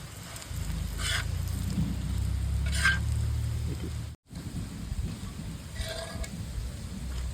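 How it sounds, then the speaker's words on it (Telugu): Eggplant pieces frying in a pan give off a steady, crackling sizzle, moderately close and even throughout, with a short dropout midway and no talking. "ఈ విధంగా మిగతా ముక్కలు కూడా బాగా ఫ్రై చేసుకోవాలి"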